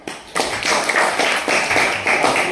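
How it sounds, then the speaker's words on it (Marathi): A crowd claps together at a public gathering, a dense, steady patter of applause that starts abruptly and carries on evenly, fairly close and loud. "अरे वा, टाळ्या वाजवा"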